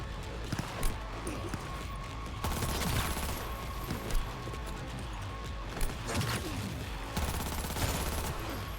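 Gunfire in the Cyberpunk 2077 video game, with bursts of hip-fired shots scattered across the clip amid noisy action sounds, moderately loud, under occasional talk.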